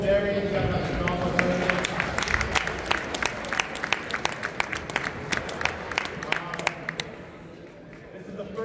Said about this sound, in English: So quick round of applause for Cole, Darius, and Dr. Norma.